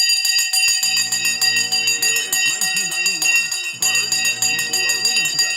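A stock market opening bell rings continuously as a bright, sustained metallic clang, loud and steady throughout with a brief dip midway, with faint talk underneath.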